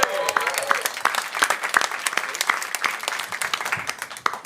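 A studio audience on a televised talent show claps in a burst of applause that holds fairly steady, with a voice speaking over it.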